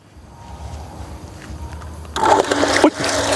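Water from a Lucky Pro SMP Series automatic pump gushes out of a detached, unglued pipe after flowing through a 28-metre line with many elbow joints, starting as a low rumble and suddenly swelling into a loud, close splashing rush.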